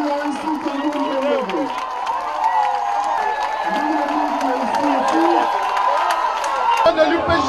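A dense crowd at a political meeting of the Gabonese opposition party UPG applauds and cheers loudly and steadily throughout, with a murmur of voices and shouts mixed into the clapping.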